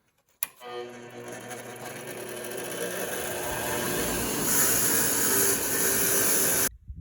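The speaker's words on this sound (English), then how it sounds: "We're just going to turn on the bench grinder, give them a nice cleanup, and they'll be good as new." A bench grinder cleans old spark plugs in a shop: a click starts the motor, which whines up to speed and holds a loud, steady grinding hum with rising scraping hiss for about six seconds before stopping abruptly.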